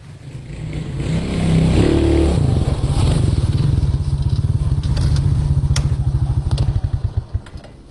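A stolen motorcycle is ridden away, its engine revving loud and close with rattling clatter, then settling into a steady running note that breaks into sputtering pulses toward the end.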